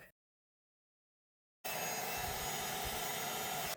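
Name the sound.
heat embossing tool blowing on cardstock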